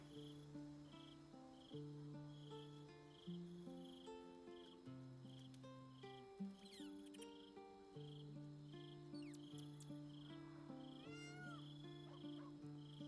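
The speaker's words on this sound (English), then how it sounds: "I think it's the owlbear making that noise." Creature noises attributed to an owlbear in the Baldur's Gate 3 video game, a cat-like tonal wail heard faintly over a game ambience of chirping insects and a sustained droning music bed, with no talking.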